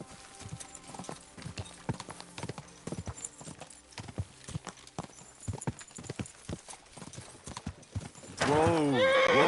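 Rhythmic hoofbeats clip-clop along in Kingdom Come: Deliverance II, then a loud horse whinny rings out near the end, with game-like sound effects.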